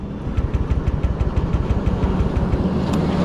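A TVS Ronin motorcycle's electric self-starter cranks repeatedly without the engine catching, giving a rapid, steady chugging pulse heard up close for about three seconds.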